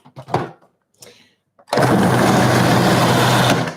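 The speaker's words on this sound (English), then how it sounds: "And now I'm going to put this blender on. So it's gonna get a little bit loud." A blender starts blending a cauliflower and white bean dip, a loud steady whirring roar that kicks in abruptly and runs to the end after a few brief knocks and soft sounds.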